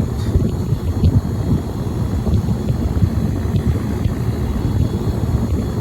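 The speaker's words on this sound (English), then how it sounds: "you're not going to be able to hear any of this because of the wind" Wind gusts buffet a microphone outdoors at Lake Titicaca, making a loud, steady low rumble that lasts the whole stretch with no talking.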